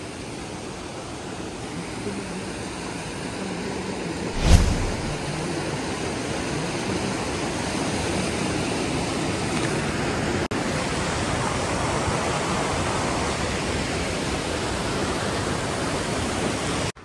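A small mountain waterfall on the Kutla trek near Kasol, a steady, close rush of falling water that fills the whole stretch, with one brief thump early on.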